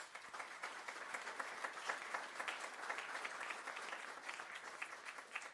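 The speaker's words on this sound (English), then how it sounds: "Let's give our partner companies a big round of applause." Steady applause from the audience at a regional chamber of commerce news conference, honoring partner companies; a moderately distant crowd claps continuously with no break for about five and a half seconds.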